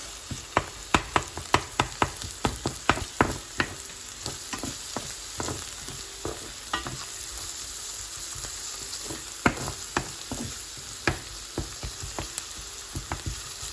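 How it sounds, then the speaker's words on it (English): Steady crackling sizzle of garlic-ginger paste frying with onions, with sharp pops and spatters scattered throughout, close and moderately loud. "I'm going to put the garlic and ginger paste and let that sizzle with the onions."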